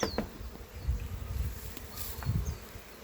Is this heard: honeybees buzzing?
yes